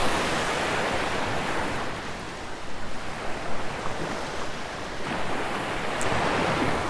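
Ocean waves roll onto a Sanibel shoreline in a loud, continuous wash of surf, swelling and easing in gentle surges with wind buffeting the microphone.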